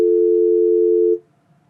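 A loud, steady single-pitch telephone line tone heard while a call is being connected, holding for about a second before cutting off abruptly into near silence.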